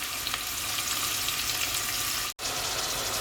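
Onions fry in a hot pan for meat pulao, a loud, dense, steady sizzle close up that breaks for an instant and resumes.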